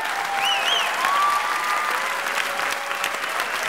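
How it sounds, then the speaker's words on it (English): Sustained theatre applause from a large Broadway audience during a live comedy show, a dense, even wash of clapping, with a few faint whistles and calls rising above it. "Applause break number two."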